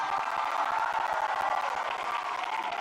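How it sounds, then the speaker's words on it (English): A large outdoor crowd claps and cheers for Pope Francis at his farewell ceremony at Changi Airport, a steady wash of applause and voices without a clear peak. "One more big cheer for Pope Francis."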